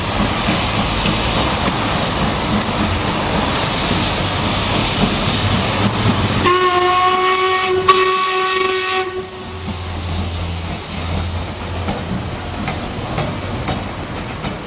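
A Stanier 8F steam locomotive departs Bristol Temple Meads in May 1998, chuffing and hissing loudly up close, then sounds a clear multi-tone whistle for about three seconds before the steady exhaust and rumble carry on.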